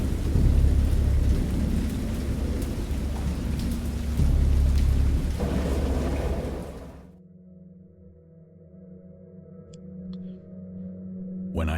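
A thunderstorm in the video game Dagon: heavy, steady rain pours with deep rolling thunder for several seconds, then abruptly drops to a low ambient hum with faint drips.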